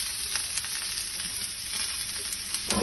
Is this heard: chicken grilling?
yes